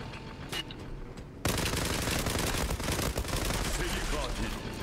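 Rapid automatic gunfire in the online shooter Zula crackles in dense bursts after a quieter opening, loud and sustained, with a voice speaking over it at times.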